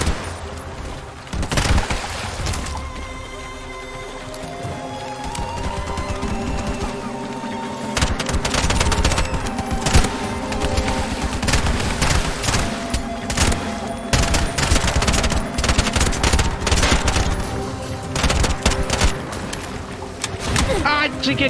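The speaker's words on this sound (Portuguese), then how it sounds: "a munição especial explode tudo" Dense explosive special-ammunition gunfire from a weapon in the shooter game Bright Memory Infinite, a loud rapid barrage of bursts running almost continuously across the span, with someone talking over it.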